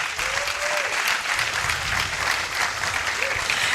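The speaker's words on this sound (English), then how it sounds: "let's give our Rabbi Halevi another round of applause" An audience claps in sustained, dense applause at an African Liberation Day celebration, a loud even roar of hands with a faint voice briefly audible beneath it.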